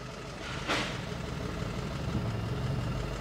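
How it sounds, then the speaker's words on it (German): An Opel Zafira with engine damage idles with its hood open, giving a steady, close mechanical hum and rattle that holds evenly throughout with no voices. "Mach mal das Motor an, mach mal die Haube auf und gib dann mal einen Gasstoß"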